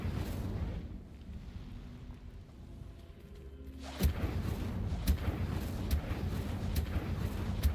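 Incendio fire spell cast in a Hogwarts game, a sudden whooshing burst of flame that flares into a steady roaring crackle with periodic sharp pops, following a quieter rumbling stretch.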